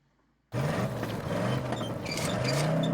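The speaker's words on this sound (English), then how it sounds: "That is a really rickety car." A rickety old car in the 2018 Call of Cthulhu video game starts up abruptly after brief silence, then its engine runs loud and rough with a rattling, clattering roar close by.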